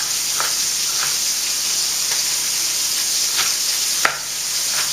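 Pork meat browning in a pan sizzles steadily and loudly, a continuous frying hiss broken by a few faint clicks of stirring, with no talking.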